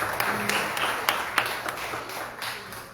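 A church congregation gives scattered, uneven claps for Jesus in a moderately reverberant hall, with a soft voice faintly underneath.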